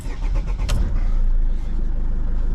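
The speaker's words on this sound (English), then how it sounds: "Right, I'll just start the car up." A Mercedes W209 CLK 220CDI diesel with an engine management fault cranks briefly, then catches and settles into a loud, close, steady idle rumble, with no talk over it.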